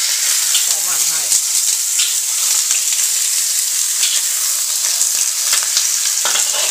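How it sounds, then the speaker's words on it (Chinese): Pig trotters stir-fry in a hot pan to dry off their water, giving a loud, continuous hiss and sizzle with occasional scrapes of stirring, close and alone. "炒干水。"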